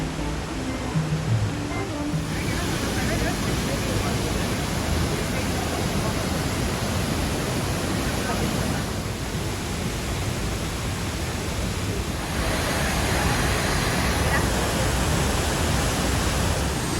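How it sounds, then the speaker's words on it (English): Tegalalang waterfall in Bali roars as a steady, dense wash of falling water, loud and unbroken for the whole stretch, with slight swells in intensity. "We're now at the Tagalongan waterfall."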